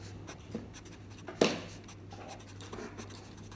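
Pen writing on paper up close, soft scratchy strokes with one sharper tap partway through, faint and steady with no talk.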